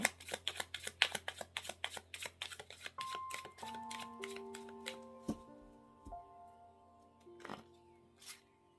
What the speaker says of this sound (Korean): 힌트 카드 3장 뽑아볼까요?